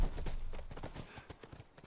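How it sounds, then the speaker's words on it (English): Horse hooves clip-clop in The Last of Us Part II, a quick run of close, hollow knocking steps that fades slightly toward the end, with no talking. "Let me check my horse."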